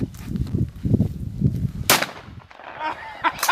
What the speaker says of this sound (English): He missed the can with a shotgun.